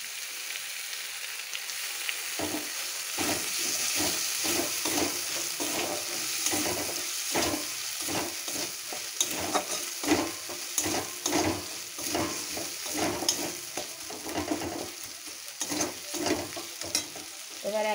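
Chili paste, black pepper, green chilies and dried chilies fry in a pan for a chicken gizzard and liver curry, giving a steady loud sizzle broken by repeated stirring scrapes, with no talking.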